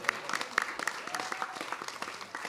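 Light scattered clapping from an audience at the grand opening of Union Public Library, with sharp individual claps standing out over a faint murmur and steady patter.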